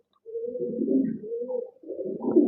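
A male pigeon in breeding condition, kept near a female, coos in a low, throaty rolling call, two close, loud phrases with a brief pause between them.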